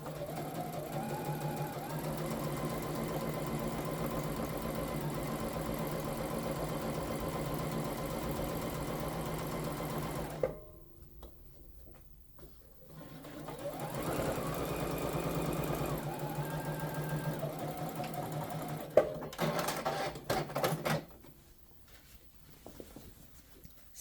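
A home sewing machine stitches a French seam pocket on a Simplicity 8014 garment, running in long steady bursts with a gap of near silence around the middle, then a few short clicks and stops, close by with no speech.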